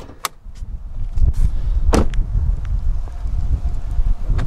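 A 2021 Lexus IS 350 F Sport AWD hood being released and lifted, with a few sharp metallic clunks and clicks over a windy outdoor rumble.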